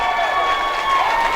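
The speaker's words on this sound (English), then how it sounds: "As the fans cheer," A baseball crowd cheers in a stadium after a foul ball flies into the stands, a loud, sustained roar of voices and applause.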